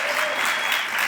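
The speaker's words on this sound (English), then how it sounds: "You can clap for that" An audience at an awards ceremony honouring police officers applauds with a brief, steady wash of clapping from many hands, loud and even throughout.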